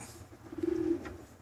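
A hen gives a short, low, throaty vocalization close by, a single soft coo-like call lasting under half a second over quiet background.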